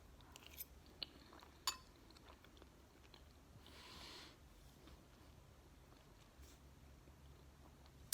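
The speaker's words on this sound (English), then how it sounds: "I'm gonna take a bite, and we're gonna see how this goes" Quiet chewing of a bite of vegan Cajun Alfredo pasta with spinach, soft close mouth sounds with a few sharp clicks and a brief breathy sniff, no talking.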